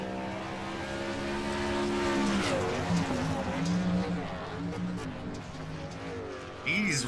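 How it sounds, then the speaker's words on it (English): A race truck engine revs at a dirt track race, rising and falling in pitch over several seconds, loud and close, with commentators talking over it. "He's revving that car up, BJ."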